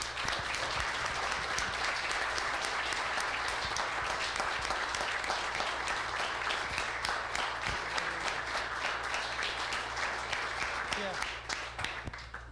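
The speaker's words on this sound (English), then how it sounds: "round of applause for this wonderful young man" Sustained crowd applause at a city council meeting honoring a young man, dense steady clapping filling the room for about twelve seconds before tapering slightly at the end.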